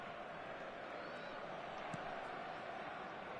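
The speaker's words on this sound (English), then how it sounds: "the crowd are reacting to that now" Simulated stadium crowd noise in an eFootball match, a faint steady roar of many voices reacting after a goal makes it 2-1, with a brief thump near the middle and no commentary over it.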